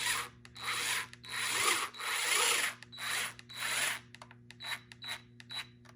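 A HYCHIKA battery-powered screwdriver tightens a screw in a series of short whirring bursts, close and fairly quiet, with brief pauses between each run.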